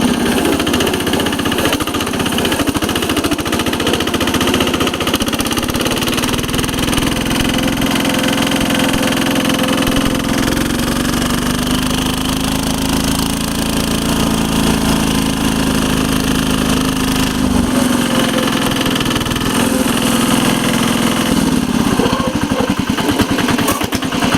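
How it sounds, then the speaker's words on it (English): A Lombardini 6LD 435 diesel engine, still slightly cold, runs steadily in a Case 446 garden tractor, producing a loud, continuous, close-up knocking drone with a slight rise in pitch midway through. "the engine still is a little cold. But it's got a whole lot of low end torque."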